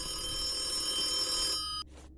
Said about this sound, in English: That's a weird ringtone for this phone